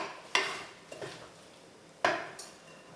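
Muffin batter is spooned into paper cases, with a few faint spoon clinks and taps against a bowl and scattered soft scrapes in a quiet kitchen.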